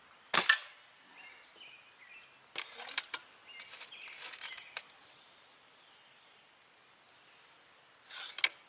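A Stoeger A30 air rifle fires Predator Polymag pellets: a sharp, loud shot opens, followed by a few scattered clicks and handling noises, then a second crisp shot near the end.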